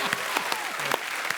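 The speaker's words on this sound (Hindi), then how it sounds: "ठोको ठोको ठोको ताली। ठोको ताली।" Steady, dense applause from a comedy show studio audience, a continuous patter of many hands clapping at close range with no voices.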